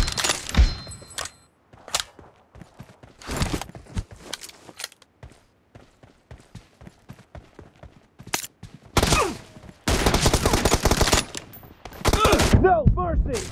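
Gunfire crackles through a video game team deathmatch, with single sharp shots, rapid bursts and dense machine-gun volleys near the end, separated by short quiet gaps.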